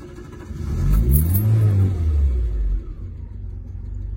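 A 1979 Renault 7 TL's small Cléon engine cranks and catches, revving up with a rumbling surge before settling into a steady idle, close by.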